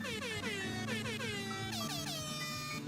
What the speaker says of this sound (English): and a blue one that does higher pitch sound.